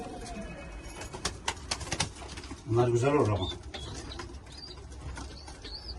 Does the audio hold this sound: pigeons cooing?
yes